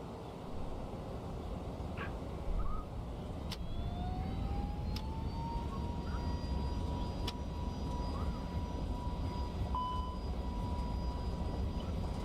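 FSLabs A321neo jet in a flight simulator rolling for takeoff at Lisbon, a steady loud broadband engine roar with a rising whine building over the run and a few sharp clicks.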